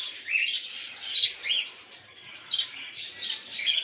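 Small birds in an aviary give bright, close chirps and tweets in repeated bursts, clustered calls rising and falling over a quiet background with no talking.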